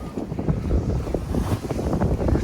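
Strong wind gusts buffet a double-reefed sailboat at sea off Mexico, with a blustery roar and rushing water, loud and continuous.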